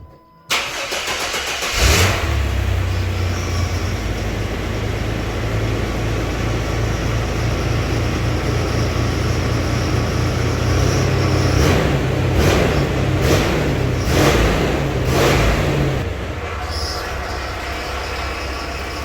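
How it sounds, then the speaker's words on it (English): A Chevy S10 Blazer's 4.3 V6 with stock exhaust cranks and catches on a cold start after sitting six weeks, then settles into a loud, steady low idle with a deep rumble that continues close by throughout. "This is a cold startup, literally, it hasn't started in a month and a half"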